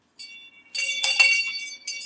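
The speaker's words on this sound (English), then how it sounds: "That's my bell. My favorite bell. I love my bell." A small bell rings with a bright, clear tinkle in a few quick shakes, close and alone with no talk over it.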